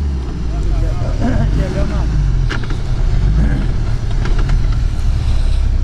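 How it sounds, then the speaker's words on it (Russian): A heavy UAZ Patriot off-road vehicle revs and pulls hard at a rally, its engine rumbling loudly and building speed close by, with brief knocks and clatters over the drone. "Патриот все-таки по весу тяжелее. Набирает ходу."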